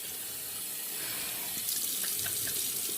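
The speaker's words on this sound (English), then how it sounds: "So I'm gonna rinse the face and apply the Razor Rock Blue Barbershop aftershave." A water tap runs steadily into a sink for rinsing the face after shaving, a continuous close hiss of flowing water with small splashes toward the end.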